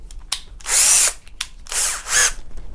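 A drill spins a socket fitted to a router table's height adjuster to raise the cutter, giving a few close, loud whirring bursts with brief quick blips between them.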